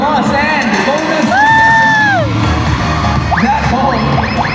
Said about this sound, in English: let's give Anna a big round of applause